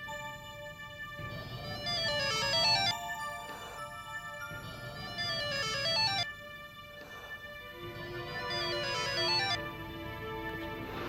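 A mobile phone ringtone plays a bright, repeating melodic tune for about eleven seconds, with no voices over it.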